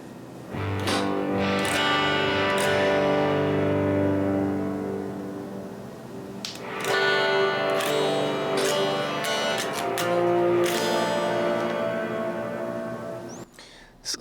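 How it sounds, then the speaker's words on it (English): An electric guitar played through a Nano Cortex is strummed in two long passages, chords ringing out with a lush, washy reverb tail that lingers and fades between them. "I just want to strum around a little bit and show you that we're altering the sound"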